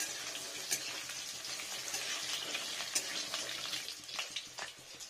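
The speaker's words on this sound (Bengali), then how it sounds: "আর এটা দারচিনি, এটা একটু ফ্রাই হয়ে যায়।" Cinnamon sticks fry in hot oil for chicken pulao, making a close crackling sizzle with scattered sharper pops over a few seconds.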